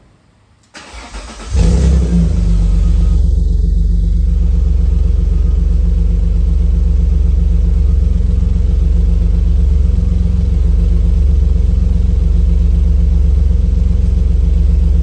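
An Alfa Romeo 156 2.5 V6 24v with a newly built exhaust fires up, catching after a brief crank and settling into a steady, deep, loud idle rumble that holds close and unbroken.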